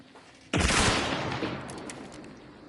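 A loud burst of gunfire in the game Hunt: Showdown 1896 cuts in suddenly after near silence, then decays into a long rumbling echo, with another shot starting at the very end.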